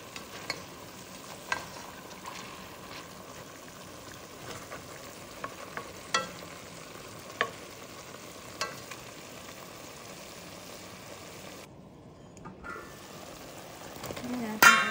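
Tomatoes sautéing in a pan for chicken sinigang give a steady low sizzle with scattered stirring clicks and scrapes, a brief dip near the end, then a louder scrape to finish.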